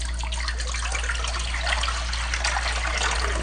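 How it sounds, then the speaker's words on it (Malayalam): Tender coconut water is poured into a vessel in a home kitchen, a continuous close trickling splash with a low steady hum underneath and no talking. "ആദ്യമായിട്ട് ഞങ്ങൾക്ക് ഇളനീരിൻ്റെ വെള്ളം ഒരു പാത്രത്തിലേക്ക് മാറ്റി കൊടുക്കാം."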